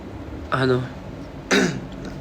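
Two short, throaty coughs about a second apart, close to the listener, over a faint steady background hiss.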